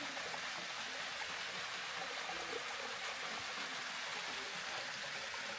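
Water rushes and gurgles steadily in a stream near Rudradhari waterfall, a constant broadband flow with no pauses and no voices.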